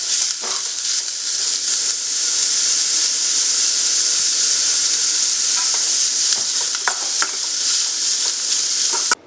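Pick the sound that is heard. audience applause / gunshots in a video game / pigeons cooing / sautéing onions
sautéing onions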